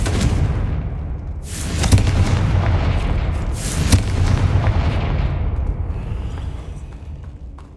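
Fiery Confringo spell explosions in Hogwarts Legacy boom out loudly in a few separate blasts over a dense, rumbling low roar.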